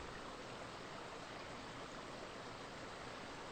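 Steady rushing water flows on without pause, a soft, even wash like a small brook, faint and constant.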